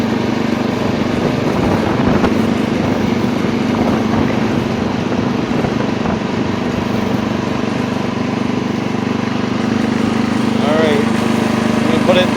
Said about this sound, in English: Oh, stutter in the engine again.